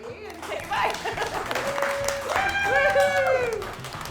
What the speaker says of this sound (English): you guys will clap with me and say bye